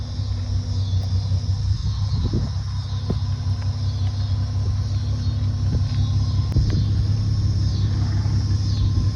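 Honda Accord engine held at high revs during a burnout attempt, a loud sustained droning rumble with a steady whine, near and continuous without speech.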